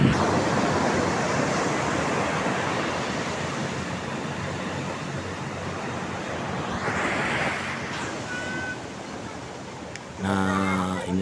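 Ocean surf at Karang Haji beach in Sukabumi, a steady broad roar of breaking waves and wind filling the whole stretch, with a brief swell of louder wash near the middle and some tonal noise near the end.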